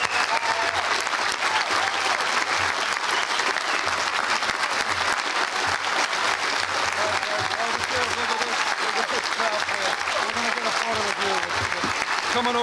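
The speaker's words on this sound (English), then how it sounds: "Doug will be retiring after this year, so an extra round of applause." Steady, dense audience applause at a school prize day honoring a retiring staff member, sustained and full throughout with faint voices mixed in.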